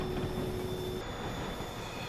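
A Train Simulator 2020 passenger train, two ALP locomotives back to back hauling Amtrak cars on the North Jersey Coast Line, gives a steady rumbling roll with a thin high whine, a constant wash of rail noise and no speech.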